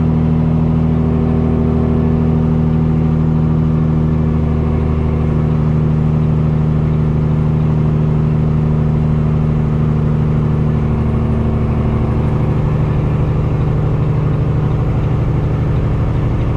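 A loud, steady diesel engine drone with a low rumbling hum, continuous throughout as a custom Peterbilt semi truck with a 600 Cummins engine, lightly loaded, cruises along.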